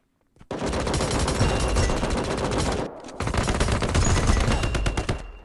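Sustained rapid automatic gunfire in the Indus shooter game, loud and continuous for several seconds with a brief pause midway before the bursts resume, no talk over it.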